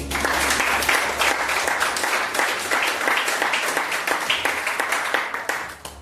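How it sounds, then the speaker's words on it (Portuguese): A church congregation applauds in sustained, dense clapping that fills the room for several seconds, with a low hum underneath. "Vamos aplaudir o Senhor."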